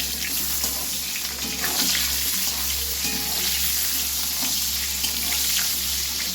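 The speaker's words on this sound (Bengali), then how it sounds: "সামান্য একটু নুন দিয়ে বেগুনগুলো ভেজে নিচ্ছি।" Eggplant slices frying with a little salt in a pan, giving a steady, continuous sizzle that stays even from start to finish with no talk over it.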